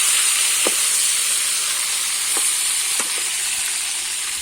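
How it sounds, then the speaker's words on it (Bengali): Chicken pieces frying in the same oil used to brown potatoes for a chicken kosha curry, a steady close sizzle and hiss throughout with a few faint clinks of stirring, no talk. "ওই তেলেটাই কিন্তু আমি মাংসটা ভেজে নেব"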